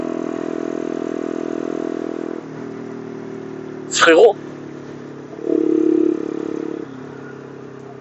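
A Yamasaki YM50 50cc motorcycle running at town speed, its steady buzzing engine drone close and dominant, dipping and rising with throttle changes, with a brief rattling clatter midway and someone speaking French over it.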